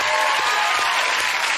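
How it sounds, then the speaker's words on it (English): A studio audience cheers and applauds, a dense, even wash of clapping that stays loud for the whole short stretch. "Give him a big cheer."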